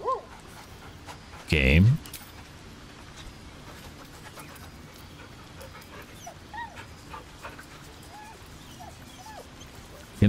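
Dog whimpering and a short loud bark-like burst in Baldur's Gate 3, with the burst close and brief early on and soft whines scattered under ongoing talk.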